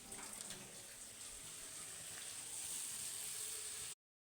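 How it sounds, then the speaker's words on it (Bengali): Water pours steadily into a pot of potatoes with a soft, continuous splashing hiss, then cuts off abruptly. "একটু জল দিতে হবে"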